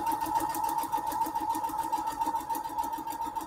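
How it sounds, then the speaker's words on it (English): A sewing machine stitches quilt fabric for foundation paper piecing, giving a loud, close, steady whirring hum with a fast, even mechanical pulse that runs without a break and without talking. "let me get my sewing machine here. We're going to sew."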